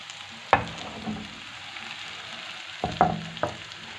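Onion and cumin frying in oil in a home kitchen for a turnip dish, a steady close sizzle with a few sharp clatters of stirring, no voices.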